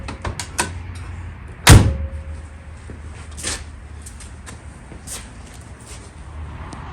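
A rusty VW Beetle's car door swings and shuts with one sharp, loud slam, followed by lighter clicks and latch knocks nearby over a low ambient hum.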